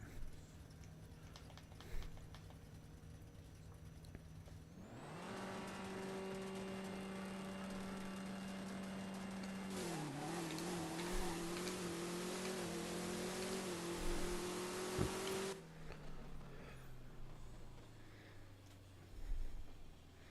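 Chevrolet Camaro at a drag strip roaring through a sustained, loud full-throttle run with a rising engine note and a sharp gear change midway, then cutting off abruptly to quieter idle.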